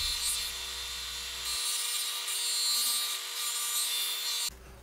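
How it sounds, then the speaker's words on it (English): A bench sander grinds wooden pieces down to a line, a steady abrasive whir with shifting rubbing tones as the wood is pressed against it, close and continuous with no talk. "taking them over to the bench sander and cleaning them up, sanding down to the line"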